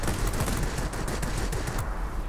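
Aircraft machine guns on the I-250 fighter in World of Warplanes fire as a continuous rapid stream of loud, close rattling bursts. The firing runs unbroken for about two seconds and trails off slightly at the end.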